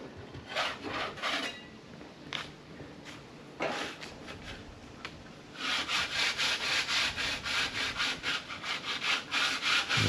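A worker sands surfaces during house repairs, producing repeated rasping strokes in short bursts that settle into a steady, loud back-and-forth rhythm up close.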